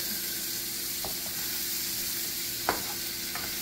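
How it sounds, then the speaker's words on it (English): Fresh green beans with garlic and cream cheese sauté in a pan over medium heat, a soft steady sizzle with a few light clacks of a utensil, close and quiet with no talking. "And then I'm just going to let this saute together, just on medium heat."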